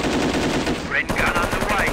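Rapid machine-gun fire crackles continuously in a World War II battle in the Company of Heroes game, dense and loud, with brief whistling effects layered over the bursts.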